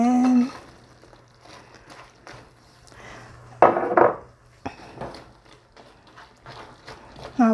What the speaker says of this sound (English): So I'm gonna add the tofu in there